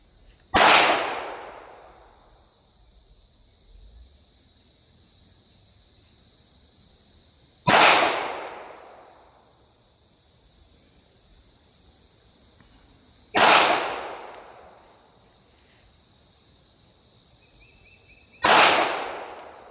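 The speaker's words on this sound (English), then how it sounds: "So just keep a little bit of downward pressure on it as you're shooting and you'll be fine." Four loud, sharp handgun shots fired one at a time during shooting training, spaced several seconds apart with brief echoing decay after each and quiet in between.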